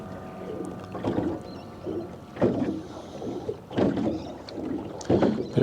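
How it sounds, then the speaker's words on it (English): Wake from passing boats slaps against a small fishing boat on busy water, giving irregular hollow knocks and splashes against the hull every second or so, close and moderately loud. "Bit of boat wake from passing boats"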